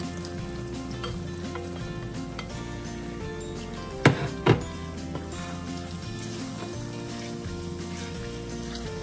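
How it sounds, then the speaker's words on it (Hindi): Marinated goat liver frying with onions in a pan, a steady low sizzle running throughout, with a couple of sharp metallic clanks from the pan or spoon near the middle. "प्याज के साथ इसको अच्छे से फ्राई करेंगे।"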